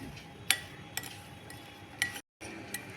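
A spoon mixes ground mustard and fenugreek spice powders for an instant mango pickle in a bowl, producing a few faint, scattered clinks and taps against the bowl over a quiet background.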